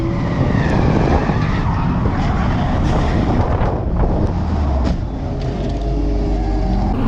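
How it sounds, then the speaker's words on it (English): A Toyota GT86 skids at a drift day and understeers into a wall: loud sustained tyre scrub and engine noise with wind buffeting, followed by a few sharp knocks and a rumble as it hits and slows. "So brakes and understeer into a wall."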